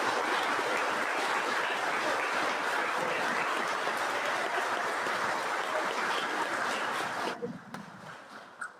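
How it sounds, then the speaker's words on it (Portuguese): A congregation applauds at a Mass in a Catholic community church, a dense, steady wash of clapping that fills the room for several seconds before dying down to a few scattered claps. "Então, uma salva de palmas."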